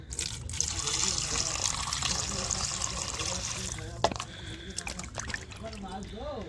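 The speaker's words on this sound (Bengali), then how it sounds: "হ্যাঁ মাছটা ধুচ্ছি মা" Tap water runs steadily while fish is washed in a home kitchen, a continuous splashing stream that later breaks into irregular trickles and clatter, with a person speaking over it.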